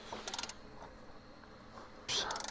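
A 3/8 torque wrench ratchets on the fan clutch bolts of a 6.7 Cummins in a 2022 Ram 5500, making quick bursts of faint metallic clicks at the start and again near the end.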